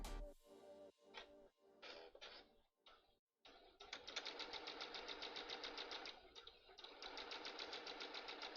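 A sewing machine tacks down fabric along a half-inch edge, starting with a few short separate bursts of stitching, then running in a steady, close, rapid rhythm with brief pauses.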